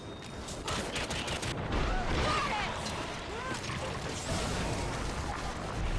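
Heavy gunfire aimed at a monster in a video game, a continuous rattling barrage of rapid shots with mechanical clatter, loud and steady for several seconds, with voices calling out during it.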